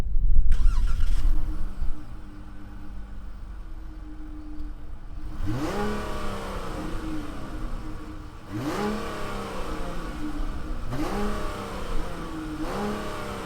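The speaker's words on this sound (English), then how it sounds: "Let's fire up this V6 and see if it makes any sound." The 3.6-litre V6 of a 2020 Dodge Charger SXT turns over and settles into idle, then gives three rising revs that sweep up and fall back, loud and close with no talking.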